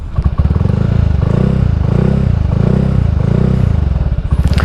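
An unmodified Honda Scoopy scooter revving up close, its small engine rising and falling through several throttle pulls in a loud, buzzing drone with no speech.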